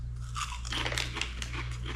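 Onion and garlic flavoured potato chips from the Philippines, Lay's-style, crunched in the mouth with close, continuous crisp bites over a low steady hum.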